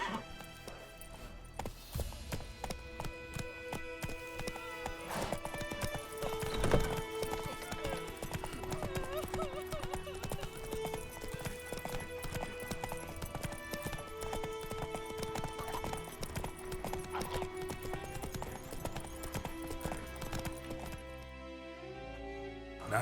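Roach, a horse in The Witcher 3, clip-clops along with steady hoof beats under a continuous bed of game music and ambience, with a brief louder thump partway through.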